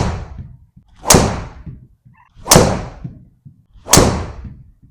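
Three muted, thudding strikes of a TaylorMade QI35 driver hitting a golf ball, evenly spaced and fairly loud, each a short dull impact with a brief fading tail.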